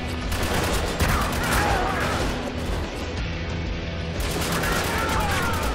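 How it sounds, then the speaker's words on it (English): Grenade explosions and bursts of gunfire in the Spec Ops The Line video game: loud, dense firefights with booming blasts and crackling shots, a brief lull midway before the firing resumes, with players talking over it. "Oh god, another grenade."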